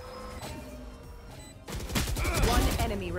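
Rapid gunfire erupts in a tactical shooter game after a quieter stretch, loud repeated shots hammering in quick succession during the second half, with a player's voice over the action.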